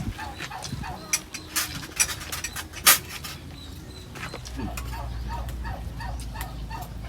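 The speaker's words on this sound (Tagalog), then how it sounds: "Napakaingay ng pabo" A turkey gobbles in several rattling bursts, fairly close, on a rural Philippine farm, with other scattered animal calls and a low rumble rising underneath.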